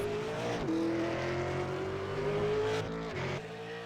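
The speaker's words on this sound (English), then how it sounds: "Next car to take time in the qualifying session" Race car engine on a qualifying run at 5 Flags Speedway, a loud steady drone that climbs in pitch, drops sharply as the driver shifts, then rises again, with a brief dip near the end.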